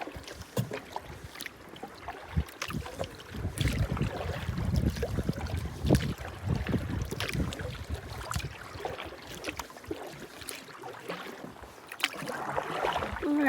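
A solo canoe is paddled across Cat Lake in the Haliburton Highlands, with soft, irregular dips and swishes of water and faint splashes in a quiet outdoor setting.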